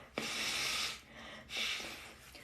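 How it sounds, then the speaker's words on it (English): Two breathy, rushing blows of someone blowing their nose, close and fairly quiet, with a brief pause between them. "I need to blow my nose, so don't mind me."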